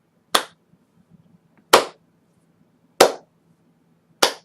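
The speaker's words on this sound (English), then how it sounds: "As you stand up, you hear this clapping." Four slow, sharp claps ring out in darkness, spaced over a second apart and each trailing off briefly, loud against a faint low hum with no voices.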